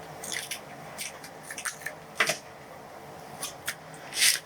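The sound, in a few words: cutting paper with scissors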